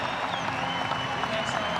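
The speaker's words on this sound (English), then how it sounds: "Massive round of applause" Steady applause from a stadium crowd at an AFL match between Geelong and North Melbourne, honouring Mitch Duncan's 250th game, a broad wash of distant clapping under a commentator's voice.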